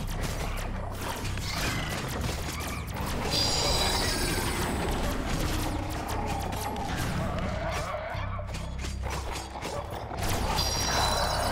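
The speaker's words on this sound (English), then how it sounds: "he goes and opens a door." A door opens in the video game Dungeon of the Endless with a long mechanical creaking and grinding that continues steadily over a dense background of game sound.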